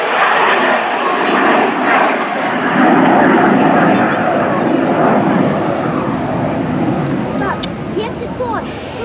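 An Avro Vulcan XH558 bomber flies over an airshow with a broad, loud jet roar that swells and then slowly fades, while a crowd murmurs and chatters faintly beneath it.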